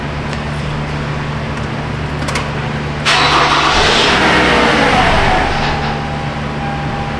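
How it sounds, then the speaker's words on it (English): A Toyota Camry engine cranks over for several seconds with a steady mechanical churn, growing louder and busier midway as it tries to catch, then settling back, heard close with no talk. "Let me crank the car over."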